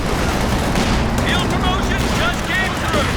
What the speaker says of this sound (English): Incendiary rounds coming out of incendiary mortar barrage.